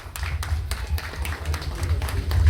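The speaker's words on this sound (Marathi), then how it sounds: "जरा जोरदार टाळ्या सगळ्यांनी पुन्हा एकदा उभं राहून यांच्यासाठी टाळ्या द्यायच्या आहेत" A temple renovation ceremony crowd in Turbhe Khurd claps steadily and loudly, the dense patter of many hands running continuously throughout without pause.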